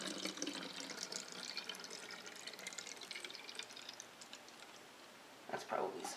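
Water running into the tank of an Arctic Air Ultra Pro portable cooler, a soft steady trickle and splash at close range that swells briefly near the end, with no talk over it.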